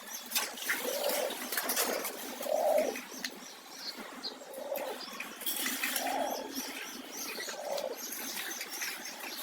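Breeder pigeons coo in a loft, several soft rolling coos spaced a couple of seconds apart among faint chirps and background rustle, with no voices.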